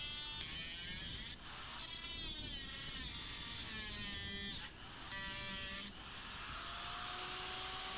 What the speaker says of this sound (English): Using a grinder, I cut the teeth off this section of the blade